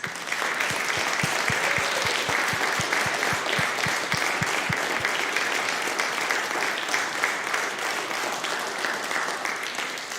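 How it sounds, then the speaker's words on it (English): Sustained applause from the audience at a student piano recital, dense steady clapping filling the room for about ten seconds, with individual nearby claps standing out early on. "Let's have all of our students stand up one more time for one final round of applause."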